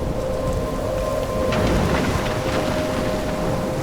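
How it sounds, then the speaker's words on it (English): Thunderstorm in the video game Life Is Strange: steady heavy rain hiss with a rumbling swell of thunder midway, loud and continuous throughout, with no talking. "I'm trapped in a storm?"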